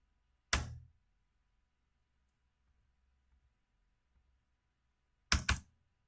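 Two computer keyboard key presses, the Enter key, sounding as a single sharp click followed about five seconds later by a quick double click, close and crisp against near silence.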